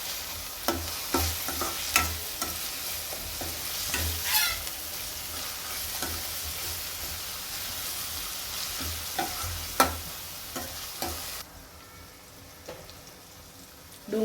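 Onion, tomato, ginger, chilli and garlic sauté in a pan with a continuous close sizzle. Repeated scraping and stirring strokes and occasional sharp clinks of a spoon against the pan break through it.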